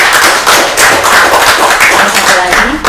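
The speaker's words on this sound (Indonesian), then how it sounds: "tepuk tangan dulu dong" Audience applause at an Indonesian ceremony honoring a land grant for a military base, with dense, steady clapping throughout and voices mixed in.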